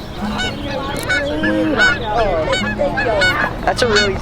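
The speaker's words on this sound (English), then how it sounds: "There's a duck and I pet it." A duck on a field-trip visit to a bioshelter honks repeatedly and loudly up close, a run of harsh nasal calls in an irregular rhythm.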